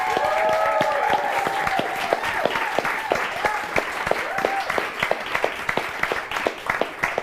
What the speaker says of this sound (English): A round of applause for our champions as well.